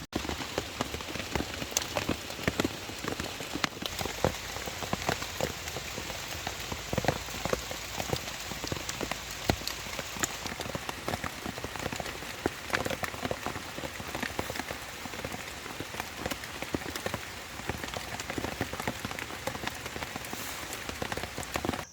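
Steady rain patters on forest leaves, a dense wash of soft drips and taps continuing throughout, moderately quiet with no voices.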